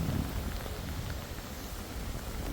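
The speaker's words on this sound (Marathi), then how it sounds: "खूप जोरात पाऊस आहे मित्रांनो, तुम्ही बघू शकता." Heavy rain pours steadily on a hill fort trek at Rayreshwar, a dense continuous hiss close to the microphone with no voices over it.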